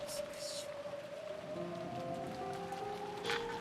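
Steady rain falls in an Umineko visual novel scene, a soft continuous patter with a faint sustained tone underneath, even and unbroken throughout.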